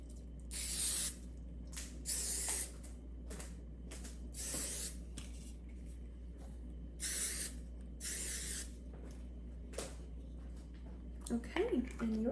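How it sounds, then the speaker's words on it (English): Quick bursts of hairspray hiss over styled hair, about eight short sprays in uneven rhythm, close and soft, with quiet rustling between them. "now you're going to do the final touch of hairspray"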